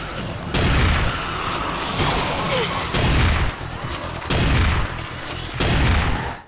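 Video game shotgun, the upgraded Dreamkiller, firing ice ball alt-fire rounds: four loud, evenly spaced booming blasts, each with a crunchy crackling tail, repeating in a steady rhythm.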